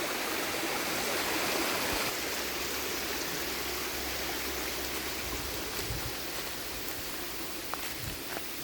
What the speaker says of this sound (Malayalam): ഈ കാണുന്നതാണ് നമ്മുടെ സ്ഥലത്തിൻ്റെ സൈഡിൽ കൂടെ ഒഴുകുന്ന ചെറിയൊരു തോടാണ്